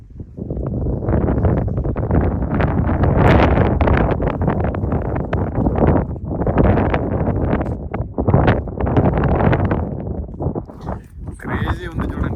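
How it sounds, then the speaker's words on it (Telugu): Strong wind buffets a microphone in the open badlands of South Dakota, a loud, continuous rumbling roar with surging gusts throughout, closely dominating the sound. "విండ్ భయంకరంగా విండ్ ఉంది ఇక్కడ"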